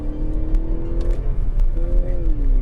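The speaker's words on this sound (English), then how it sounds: "The engine sounds raw and nice." A 2018 Toyota Crown RS with a 2-liter engine accelerates, its tone climbing through steady revving harmonics, dipping at a shift and rising again, loud and close with a few clicks over the drone.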